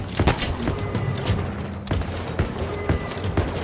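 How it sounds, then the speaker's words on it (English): A grenade explosion in the video game Halo Infinite, a loud booming blast among dense, continuous gunfire and thuds that fill the whole stretch, with no pause in the action. "Oh, that's a grenade."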